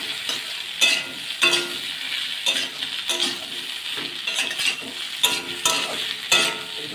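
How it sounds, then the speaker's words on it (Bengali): Fried cauliflower and potatoes are stir-fried with spices in a pan over a continuous sizzle. A spatula scrapes through the vegetables in regular strokes roughly every second, with occasional light clinks of the utensil against the pan. "ভালো করে মশলার সাথে সবজিগুলোকে কষিয়ে নিই।"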